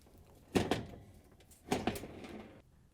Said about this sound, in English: we can carefully lift it off the hinges on each side